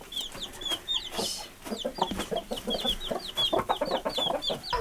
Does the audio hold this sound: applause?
no